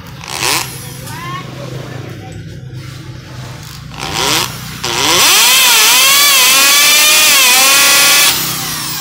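A cordless rotary hammer drill in hammer mode gives a few short revving bursts, then runs at a loud, sustained, rattling full-power whine, heard close up.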